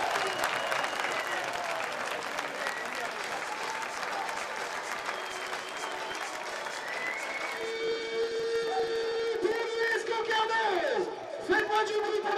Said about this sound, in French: Faites-moi du bruit pour notre numéro 11, Landry!